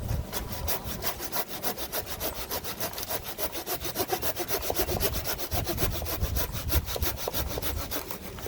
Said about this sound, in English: cut something with a folding saw